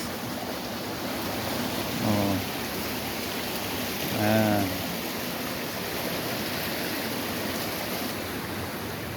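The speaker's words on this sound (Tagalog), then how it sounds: "Ayan po ang ilog dito." River water flowing steadily in a broad, continuous rushing wash, with two brief exclamations from a nearby voice over the constant stream.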